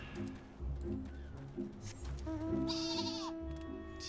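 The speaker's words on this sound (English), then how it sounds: "Sheep." A sheep bleats in Final Fantasy XIV, a wavering nasal cry over a low game music backdrop, heard close and clear.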